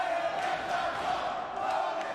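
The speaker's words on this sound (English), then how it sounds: "They're cheering for the Lotus Triad, my friend." A joshi women's wrestling crowd cheers for the Lotus Triad in a steady, distant roar of massed voices and shouts that sustains evenly throughout.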